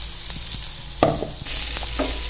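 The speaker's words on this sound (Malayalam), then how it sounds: "മൂത്ത് വന്നതിന് ശേഷം നമുക്ക് നമ്മുടെ അരപ്പ് ആഡ് ചെയ്യാം" Ground spice paste stirred into browned onions in a hot pan for a home-style kanji and payar meal, sizzling steadily with a few scraping stir strokes and a louder burst of frying as the paste goes in, no voices.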